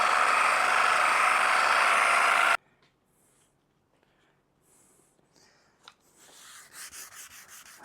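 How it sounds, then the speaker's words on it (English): Fine 240-grit sandpaper rubs rapidly against a crazed boat portlight, a loud steady rasping scratch that stops abruptly after about two and a half seconds, followed by quiet handling noises. "I'm sanding this with 240 grit"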